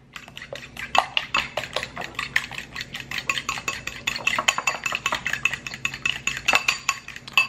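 Eggs whisked in a bowl with a quick whipping motion, a close, rapid clicking and tapping of the whisk against the bowl in a steady, slightly uneven rhythm.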